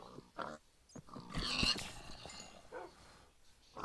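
Pink pig in the Minecraft video game giving a few short oinks and grunts, with one louder burst in the middle, fairly close and alone over a faint background.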